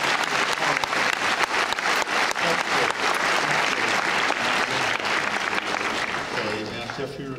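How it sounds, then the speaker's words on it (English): Wedding guests break into loud, sustained applause during the ceremony, many hands clapping together before the sound gradually tapers off toward the end. "I think that deserves applause."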